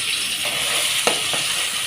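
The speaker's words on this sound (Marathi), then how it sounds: "हे मसाला, हळद आणि तेल तापत ठेवले। आता 1 चमचा वाटण टाकते" Spiced ground masala paste for a fish curry sizzling and frying steadily in hot oil with turmeric, with a few brief stirring scrapes rising from the constant crackle.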